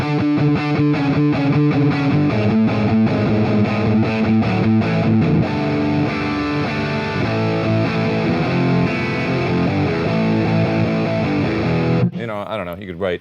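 A heavily distorted electric guitar played through a distortion pedal plays chugging chords and riffs, thick and fuzzy, cutting off abruptly near the end.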